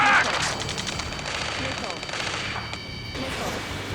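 Sustained gunfire from the video game Ace Combat 7, dense bursts of shots rattling continuously at steady loudness with a busy battle din underneath.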